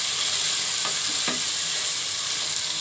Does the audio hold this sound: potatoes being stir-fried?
yes